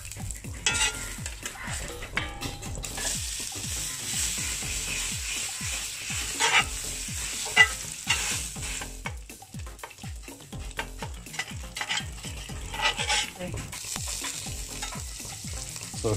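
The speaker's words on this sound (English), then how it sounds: "The wok is nice and hot, so time to add my butter, and I'm gonna add the meat into it." Meat fries in butter in a hot wok with a steady close sizzle, broken by repeated scraping and clanking strokes of a utensil against the metal, and no talking.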